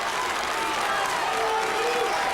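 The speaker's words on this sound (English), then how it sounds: "Big, active, and noisy crowd here at the Silverdome has enjoyed a very good Class AA football game so far." Big, noisy crowd applauding and cheering at a Class AA high school football game in the Silverdome, a dense and continuous roar of clapping filling the whole moment, with faint commentary voices mixed in.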